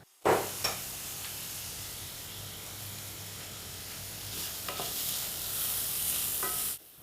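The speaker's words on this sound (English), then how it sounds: "saute it and add the risotto rice right away as well" Onions and risotto rice sautéing in a pan, a soft continuous sizzle with occasional stirring scrapes, close and fairly quiet, ending abruptly.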